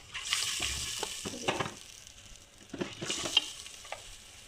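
Okra and cumin seeds go into hot oil with lightly browned onions in a pan, a soft sizzle and fry broken by repeated stirring and scraping strokes that come in uneven bursts.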